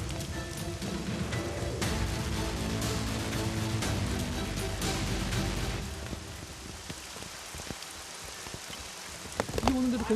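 Steady rain pours onto a rooftop garden construction site atop a ten-storey building, a dense continuous hiss with scattered drops and clatter, a few louder taps near the end.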